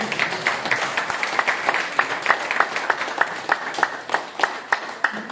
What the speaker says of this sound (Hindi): जोरदार तालियां सर की।